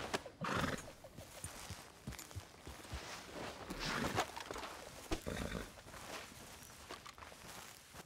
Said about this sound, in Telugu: ఓకే గుర్రం ఇప్పుడు నాదే కదా ఇది.